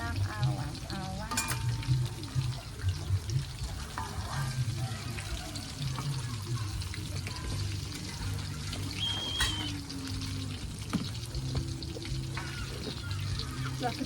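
Bananas frying in a pan give a steady, continuous sizzle and crackle that lasts throughout, with occasional clinks and faint background sounds.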